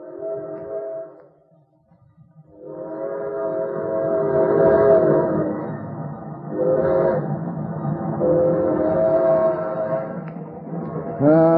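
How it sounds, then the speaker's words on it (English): A radio-drama steam train glides along with a sustained, chord-like whistle and rolling rumble, briefly fading before returning steady and loud, ending in a rising whistle blast. "We don't get to see a train very often. Sure looks good. Yep, just gliding along."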